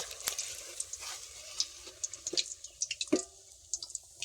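Pieces of sweet pumpkin frying in oil, a soft sizzle with small scattered pops and drips as they are lifted out of the pan, fairly quiet and close.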